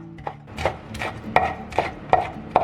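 A knife chops pickled red chilies, bird's-eye chilies and young ginger on a cutting board, six or seven crisp, close strikes at a steady, slightly uneven pace with no talking.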